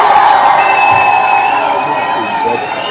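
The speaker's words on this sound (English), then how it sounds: "Let's give Q Dog a round of applause." Studio audience at a talk show cheering and clapping, a loud, busy crowd roar with shouts that slowly eases off toward the end.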